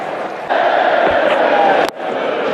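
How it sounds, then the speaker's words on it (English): A cricket crowd in a stadium roars for a big six struck into the noisiest stand, a steady broad wall of cheering that swells, holds for over a second, then drops sharply before the crowd noise resumes at a lower level. "Big six. Into the noisy part of the crowd."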